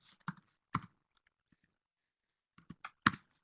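Someone types on a computer keyboard in a quiet room, producing a few sparse clusters of close, crisp key clicks separated by silent pauses.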